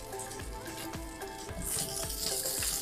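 Onion and spring onion frying in a wok, a close, dense hiss of hot oil that grows brighter and louder partway through, with a few low thumps from tossing, no speech.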